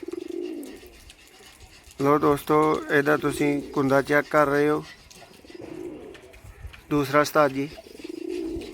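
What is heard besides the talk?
Sialkoti high flyer pigeons cooing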